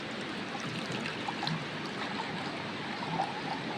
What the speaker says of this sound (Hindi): इसमें अब पानी वगैरह डालते हैं।